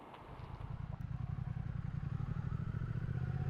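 A Triumph Speed Twin 1200 motorcycle pulls away and rides, its low engine rumble building from quiet to a steady throbbing pulse, heard close up with no talking.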